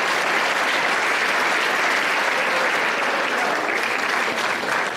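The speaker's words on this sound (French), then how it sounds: "qu'on applaudit très fort" A theatre audience applauding strongly in the hall, a dense, even roar of many hands clapping that holds steady and loud throughout.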